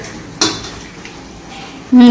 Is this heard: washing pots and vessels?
yes